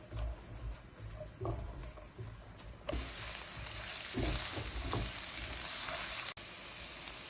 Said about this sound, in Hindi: प्याज को 2 मिनट के लिए भूनेंगे।